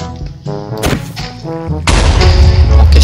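A creeper explodes in Minecraft: a short fuse hiss and thuds give way to a loud, close blast that rumbles on as a heavy low roar.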